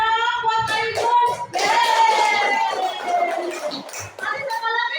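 Primary school classmates in a third-grade lesson clapping their hands for a pupil, mixed with children's voices and chanting, lively and close, with overlapping talk throughout.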